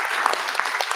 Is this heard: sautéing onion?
no